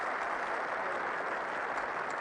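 Steady, dense applause from a crowd in a scene from the 1965 film The Sound of Music, a continuous wash of clapping heard alone without speech.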